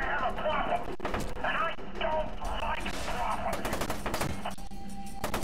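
Rapid gunfire and impacts fill the action video game F.E.A.R. 2 in dense bursts with sharp cracks. Game voices sit in the mix throughout.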